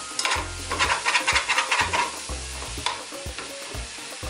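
Utensil stirring and scraping browned fond across a hot frying pan while lomo saltado cooks, with a steady sizzle and a quick run of rhythmic scrapes that pause and return, close and clear, no talking.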